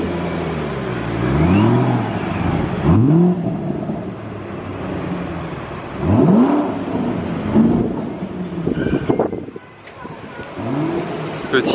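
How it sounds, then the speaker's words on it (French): The American engine of a Ford GT in Gulf livery revs repeatedly during a hypercar day in Monaco, loud rising and falling blips with a few seconds between them, heard close amid a busy street crowd. "Petit Revs gratuit du moteur américain."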